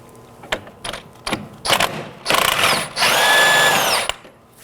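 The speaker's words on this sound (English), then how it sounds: "Now to remove the jam nut, I'll be using a 24mm on an impact gun." An impact gun fitted with a 24mm socket hammers loose a jam nut on a 2018-2024 Chevrolet Equinox inner tie rod, with short bursts first, then a longer loud rattling run.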